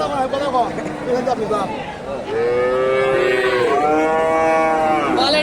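A Friesian heifer lets out long, loud moos at a cattle market, over a busy crowd with chatter and voices mixing in the background.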